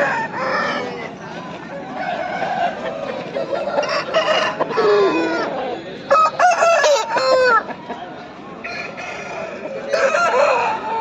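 Kaki Dega breed roosters crow loudly and repeatedly at a busy Pileru chicken market, the long crows overlapping with clucking fowl and faint background voices.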